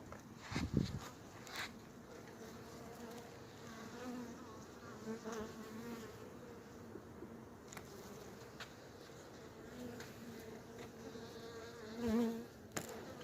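Honey bees buzz around an open hive during an overcast, windy spring hive split, a continuous soft droning hum with individual bees passing close, a faint thump near the start, no talk.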